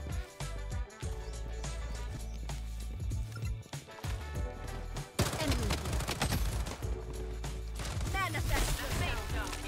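Gunfire from the shooter game Bloodstrike crackles in rapid bursts over dense game sound and music, with a heavier stretch of fire in the second half and voices chatting over it.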